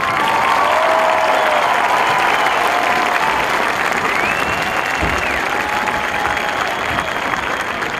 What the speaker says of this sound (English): Ladies and gentlemen, give these ladies a round of applause.